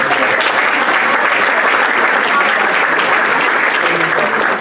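Sustained applause from a crowd of guests at a St. Patrick's Day dinner event, steady and full throughout with no gaps, loud and close.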